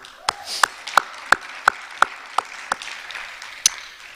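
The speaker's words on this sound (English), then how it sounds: "Please, another round of applause for all of them" At a virtual awards celebration, a handful of sharp, evenly spaced claps ring out one after another, a sparse, close rhythm of about ten distinct hand claps over a faint background.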